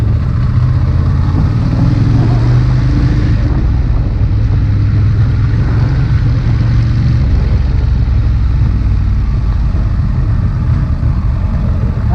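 Ducati Monster 821 motorcycle engine, a steady loud low rumble throughout under heavy wind buffeting, with no talking.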